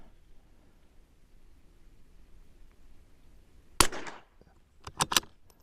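A CZ 455/457 rifle fires one sharp, loud shot at an outdoor range after a quiet stretch, followed a second later by a couple of quick, fainter cracks.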